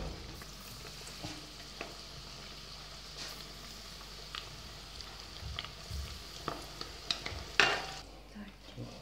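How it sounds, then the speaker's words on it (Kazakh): Chicken wings for home-made KFC-style fried chicken deep-fry in hot oil, giving a steady low sizzle with occasional stirring knocks and clinks, quiet and close. "Қызып атқан майға, мына ішінде май болады, или фритюрница болады, соған крылышкаларды қуырамыз"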